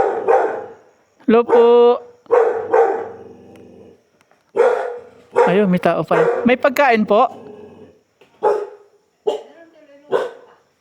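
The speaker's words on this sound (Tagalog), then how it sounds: "May aso. Aso ang bantay nila." A guard dog barks repeatedly at visitors arriving at a rural eatery on the Sagada loop, sharp close yaps in short bursts and an occasional whimper, mixed among people talking and calling out greetings.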